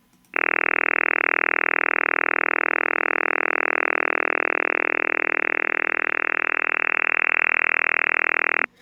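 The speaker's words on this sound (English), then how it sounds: "this was a very powerful over the horizon radar, so powerful that you could hear it" An over-the-horizon radar signal picked up on a radio: a loud, steady buzzing tone with a harsh, raspy texture, holding constant for about eight seconds before cutting off abruptly.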